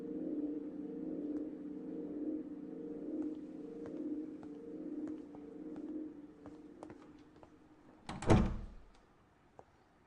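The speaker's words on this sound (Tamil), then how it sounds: "சையத் அவருக்கு கதவு தரங்க" A door opens in a dramatic indoor scene: a low steady hum runs for several seconds, then a single loud thud and clack sounds close by before fading.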